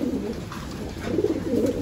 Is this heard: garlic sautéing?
no